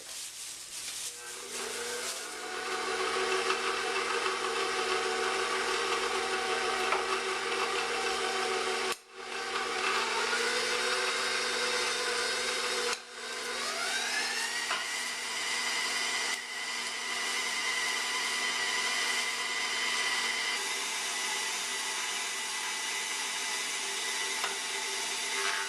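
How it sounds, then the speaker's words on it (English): An electric meat grinder runs continuously at close range, a steady whirring motor drone with slight pitch shifts as the meat feeds through, briefly interrupted twice, with no talking. "I can just turn on my machine and start grinding"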